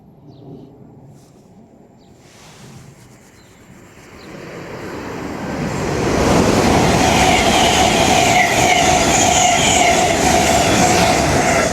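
A train passes through Retford station on the East Coast Main Line, with a quiet approach that swells after a few seconds into a loud, steady rush of wheels and rolling stock close by, the roar staying full through to the end.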